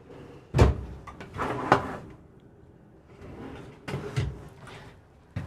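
Two drawers in a Leisure Travel Van Unity 24MB camper pulled open and pushed shut, a few distinct knocks and sliding thuds spaced out amid quiet room tone, close by and moderately loud.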